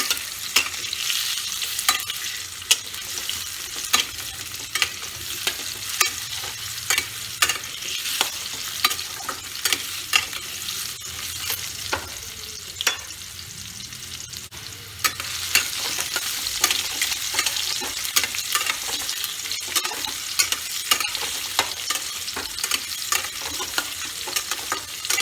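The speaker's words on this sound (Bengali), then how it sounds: "আর আলু কুমড়ো ভাজা হয়ে গেছে, এবার তুলে নেব।" Potato and pumpkin pieces frying in a pan for a pumpkin curry, a steady soft sizzle with occasional stirring scrapes, close and alone without talk.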